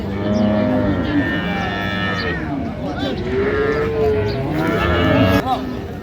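Cows and calves at a rural cattle market, Raniganj haat, lowing repeatedly in long, loud moos that overlap through the clip amid a busy crowd.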